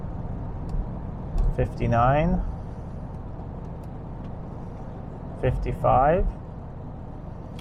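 A Jaguar XJ6 rolls along in neutral at about 60 km/h, a steady low road and tyre rumble with no engine pull, continuous throughout while someone briefly speaks twice over it.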